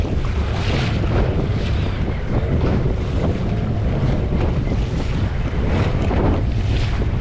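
Fishing boat at sea during a snapper fishing trip, with the engine running under a loud, steady rush of wind and water that continues throughout without talk.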